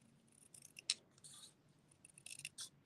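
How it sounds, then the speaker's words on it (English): Scissors cutting printed paper images for card making, close by, with several short snipping and crisp rustling bursts against a quiet background. "we're just going to cut these images out"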